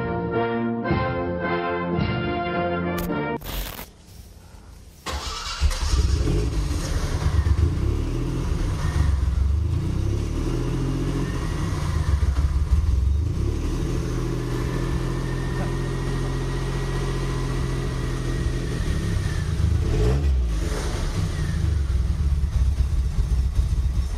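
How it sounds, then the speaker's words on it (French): A Citroën SM presidential car, one of only two built, runs in a Citroën heritage museum; after a brief tonal opening, a loud, steady engine rumble with broadband mechanical noise continues throughout. "C'est une des 2 SM présidentielles qui ont été fabriquées du temps du président Pompidou"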